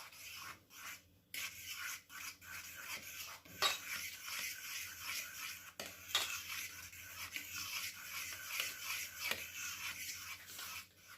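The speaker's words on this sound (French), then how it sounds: "le sucre, une petite pincée de sel et je mélange." Sugar, vanilla sugar and a pinch of salt being stirred together in a bowl for Christmas shortbread biscuit dough, producing close, irregular scraping and rubbing strokes with brief pauses between them.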